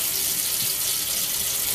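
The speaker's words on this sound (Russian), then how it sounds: "Вот, водичка горячая пошла." Hot water gushing from a tap as supply returns: a steady, close hiss of running water, unbroken and on its own.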